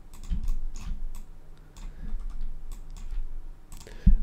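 Quick, light keystrokes on a computer keyboard tap out a short burst of clicks, close and fairly even in rhythm, ending in a firmer thump, with no voice over them.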